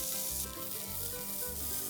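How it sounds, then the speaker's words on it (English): Beans and peas stir frying in hot oil in a pan give off a steady, close sizzle, with faint scraping as the vegetables are stirred. No one speaks. "So I've been stir frying the beans and the peas for about 4 minutes"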